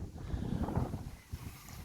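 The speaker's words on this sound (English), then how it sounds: "it's a bit windy" Wind at an abbey ruin in Maltby, Rotherham, South Yorkshire, buffets the microphone with a faint, low, steady rumble and no voices.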